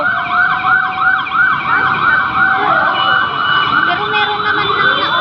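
A fire truck siren at a street fire wails loudly and continuously with a fast, repeating up-and-down whoop, close by, alongside traffic noise.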